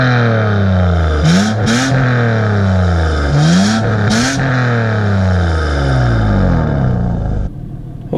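A Mitsubishi Eclipse engine revs hard as the car pulls away, rising and falling through several sharp climbs with gear-change dips, loud and close, settling lower near the end.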